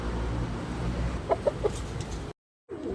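Red rooster with yellow legs giving a few short clucks over steady background noise, a quick cluster of three calls, followed by a brief dropout of silence.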